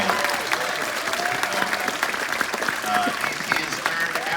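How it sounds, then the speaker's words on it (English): An audience at a film noir festival applauds Eddie Muller, a sustained, full round of clapping from a large crowd, steady and loud with a few voices mixed in. "a huge round of applause for Eddie Muller"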